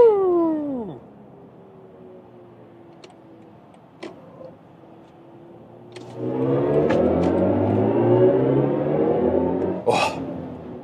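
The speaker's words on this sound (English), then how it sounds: "that was the acceleration onto the Autobahn" A 607 hp BMW i5 M60 electric car accelerates onto the Autobahn. A steady low cabin hum swells at about six seconds into a louder rising whine and road roar, with brief clicks and a short burst near the end.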